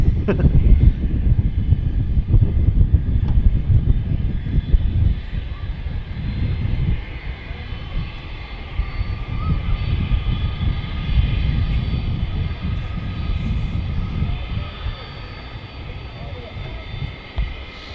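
Aircraft engines at Manchester Airport spool up into a loud, steady roar that fills the whole stretch and eases slightly partway through.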